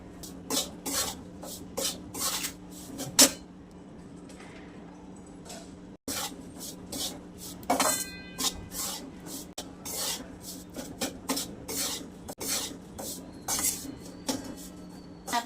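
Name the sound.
wheat flour being roasted and stirred in ghee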